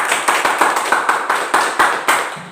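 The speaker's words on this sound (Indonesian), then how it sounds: "berikan aplaus kepada kelompok 2" A classroom claps for a student group in a short burst of applause, about ten evenly spaced, fairly loud claps with no voices over them.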